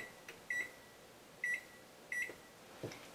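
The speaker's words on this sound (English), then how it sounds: "we'll just set our timer here" A kitchen oven timer is set, giving four short electronic beeps at irregular intervals, clear and close against a quiet room hum, with no talking.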